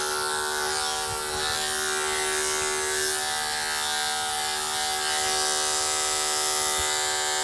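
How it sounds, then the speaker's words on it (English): Electric dog clippers buzz steadily and close up while trimming a Labradoodle puppy's coat along the cheeks, a continuous hum with faint handling bumps and no talking. "and then the clipper down the side of the cheeks."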